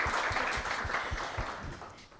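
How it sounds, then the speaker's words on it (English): Audience applause at a South African public conversation event, a steady wash of many hands clapping at moderate level that fades slightly toward the end. "let's give them all a round of applause just to start"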